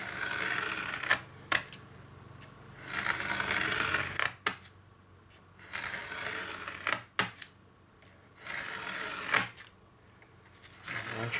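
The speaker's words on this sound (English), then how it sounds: "Once you get 2 or 3 passes, the blade's going to just follow in that crack" A utility blade scoring an acoustic foam sound-proofing wall panel in repeated passes, each stroke a dry scratchy hiss lasting a second or two, with sharp clicks and brief quiet gaps between strokes.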